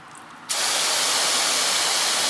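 Water from a garden hose nozzle on its soaker setting, switching on abruptly after a brief quiet moment and then holding as a steady, loud, broad hiss.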